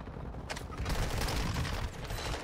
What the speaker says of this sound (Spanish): disparo todo el rato